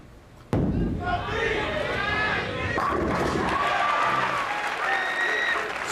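A sharp crash of a bowling ball striking pins at a 1987 professional tournament, followed by sustained crowd applause and cheering with a commentator talking over it.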